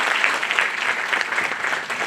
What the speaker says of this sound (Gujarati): જોરદાર તાળીઓથી આપણે એને વધાવીએ.